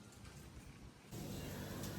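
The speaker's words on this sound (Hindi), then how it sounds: "मुझे बारिश आती हुई फिर से दिखाई दे रही है साफ साफ।" Steady rain falls outdoors, a broad hiss that swells suddenly louder partway through and stays heavy to the end, with no voices.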